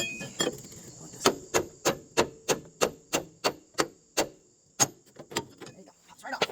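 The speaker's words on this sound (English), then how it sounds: "we're going to get a couple taps inside. Sledgehammer." A sledgehammer strikes a tie rod on a 1996 Chevy van, about fifteen sharp metallic taps in a steady rhythm, close and clear with brief ringing after each blow.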